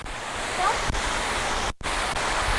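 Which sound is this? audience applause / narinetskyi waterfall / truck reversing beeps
narinetskyi waterfall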